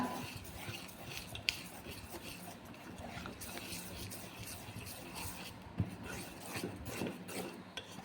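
A whisk scrapes and rasps steadily around a bowl, mixing cake batter with sunflower oil, soft, close scraping with faint clinks and occasional speech.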